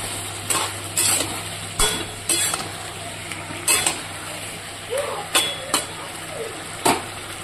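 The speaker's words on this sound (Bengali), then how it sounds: "এবার ভালো করে কষিয়ে নেব।" Fried potatoes and vegetables sautéed with chili paste in a pan, a steady sizzle under repeated sharp scrapes and knocks of a spatula against the metal, close and fairly loud.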